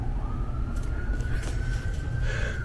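An ambulance siren wails as it passes, a single rising and sustained tone over steady low traffic rumble, fairly close and clear with no voices.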